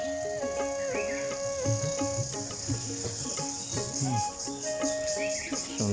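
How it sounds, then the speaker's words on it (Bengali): Crickets chirp in a Barisal village in Bakerganj, their repeated pulsing trills layered over one another in a close, steady chorus. "ঝিঝি পোকার শব্দ।"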